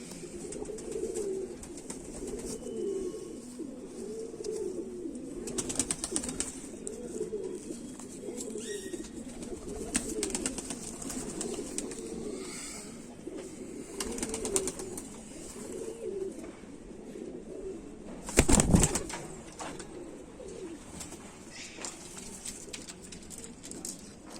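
A flock of Kamagar pigeons, kante-wale or jhumke-wale, coo continuously in repeated low rolling phrases, close and moderately loud. A sharp clatter or knock sounds briefly near the end.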